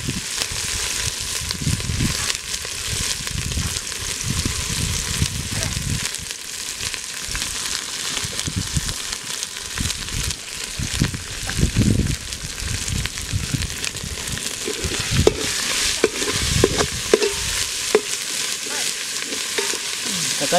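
Ginger sautéing in a pan for pigeon curry gives a steady, close sizzle, with bursts of stirring and spatula scraping that come and go throughout, and no voices.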